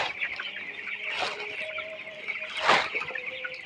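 Eighteen-day-old farm chickens clucking, a continuous close chorus of chirps and clucks with two louder bursts standing out, no talk.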